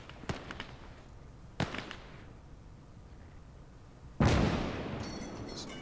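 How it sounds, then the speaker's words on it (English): Gunfire in the World War II game Gates of Hell: two sharp, distant cracks a second apart, then a louder, heavier blast that leaves a lingering rumbling tail, with no voices. "someone's shooting"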